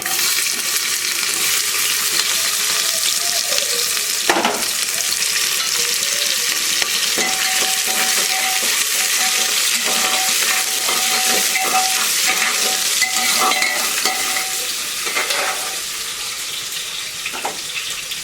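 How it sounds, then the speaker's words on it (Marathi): Cumin, mustard seeds, bay leaf, cinnamon and other whole spices with onion fry in hot oil, giving a steady, close sizzle with stirring clatter throughout and no talk. "जिरे मोहरी टाकूया आणि खडे मसाले तमालपत्र दालचिनी कांदा टाकूया आता"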